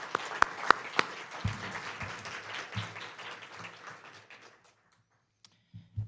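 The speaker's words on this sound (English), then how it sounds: "let's just give him a big round of applause." Audience applause at a community recognition awards ceremony, a brief smattering of claps that rises into a thin patter, fades away within a few seconds and leaves near silence.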